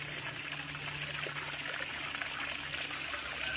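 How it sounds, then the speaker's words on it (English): Water trickles steadily into a container being filled for rabbits and other animals on a small family farm. It is a faint, continuous stream heard on its own, with no talking. "trying to fill up this water real quick so that the bunnies or whoever can come and get fresh water"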